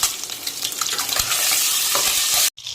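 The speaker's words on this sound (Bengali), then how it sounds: "জিরা ফোড়ন দিয়ে ডিমটা আমি ভেজে নেব" Eggs fry in hot oil tempered with cumin, seasoned with salt and turmeric, giving a loud, dense, steady sizzle with stirring scrapes that cuts off abruptly near the end.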